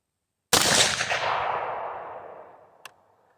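A single sharp report from an AR rifle firing a cast lead 5.56 bullet, loud and close, followed by a long decaying outdoor echo and a faint click near the end.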